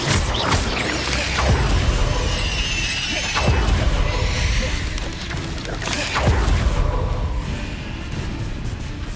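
Confringo, an explosive spell cast in the game Hogwarts Legacy, goes off as a few sharp booming bursts spaced several seconds apart over a continuous rumbling combat backdrop.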